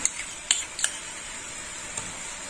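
Spoon stirring poppy seed paste and salt into tilapia curry in a pan, a few light metallic scrapes and taps against the pan over a steady faint sizzle.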